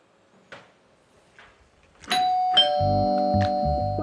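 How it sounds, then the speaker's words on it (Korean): A doorbell rings in a played video, a loud sustained electronic chime melody of several tones following a few faint knocks or taps in a quiet room. "초인종 소리에 눈을 떴습니다."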